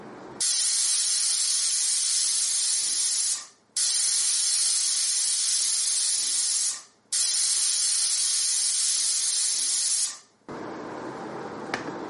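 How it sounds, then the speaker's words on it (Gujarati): A pressure cooker boiling dal lets off three long, loud hissing whistles of steam, each lasting a few seconds with brief pauses between, followed by quieter venting. "કુકરની ત્રણ સીટી થાય ત્યાં સુધી તેને બાફીશું"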